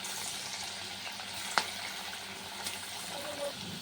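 Bitter gourd pakoras frying in oil in a wok, a steady hiss of bubbling oil with one sharp click partway through, close and moderately quiet.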